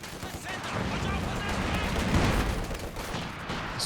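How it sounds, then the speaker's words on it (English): Artillery barrage striking a building in the Company of Heroes 2 strategy game, a dense, continuous roar of explosions and crackling gunfire that swells midway, with faint commentary underneath. "Barrage onto the building"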